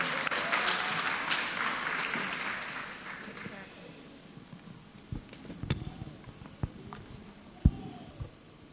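An audience at a TEDx Youth event at LPSS applauds a spoken word artist, a broad crowd clapping that fades after a few seconds into quieter room noise with a few sharp knocks and a voice beginning to speak.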